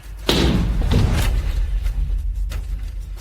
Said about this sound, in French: Défoncez cette porte.